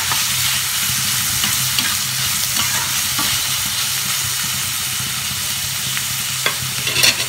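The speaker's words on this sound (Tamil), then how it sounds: "வடமிளகாய் போட்டு நல்லா வதக்கிக்கணும்." Capsicum sautéing in a pan for a paneer and capsicum Chinese-style dish, a steady loud sizzle that runs throughout with faint scrapes of stirring, no talking.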